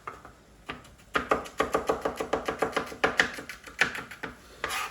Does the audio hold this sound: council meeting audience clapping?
no